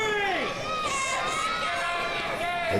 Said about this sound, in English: The crowd's cheering for Knight to get up.